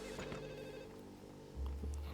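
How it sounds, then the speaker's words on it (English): A telephone rings in the video game Max Payne 2, a repeated electronic trill heard faintly beneath low background game noise, followed by a deeper thud near the end. "Okay, let's enter the phone."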